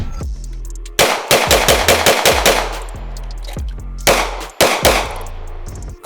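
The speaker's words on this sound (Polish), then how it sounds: "Oddajemy strzał z broni długiej i kończy nam się amunicja." A long gun fires a rapid string of loud, close shots that ring out, then a pause is followed by a few sharp handgun shots, in a reality-versus-game comparison test.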